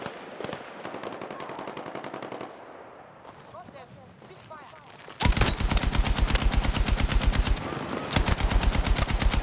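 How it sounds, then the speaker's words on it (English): Machine gun fire in the video game Battlefield 6: after some quieter distant shots and muffled movement, loud rapid automatic bursts rattle on continuously through the second half. "Enemy machine gun!"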